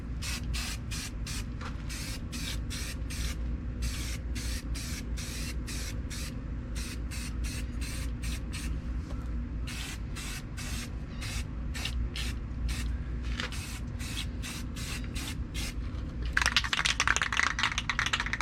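Model kit parts for a 1934 Ford pickup being spray painted with Rust-Oleum majestic red: a run of short, close hissing aerosol bursts in a steady rhythm, ending with a longer, louder spray.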